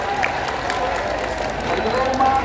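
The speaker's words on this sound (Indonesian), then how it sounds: "Tepuk tangan untuk anak-anak ini." Students at a junior high school flag ceremony in Ngawi applaud in a steady, crowded clatter lasting throughout, with a voice speaking over the clapping.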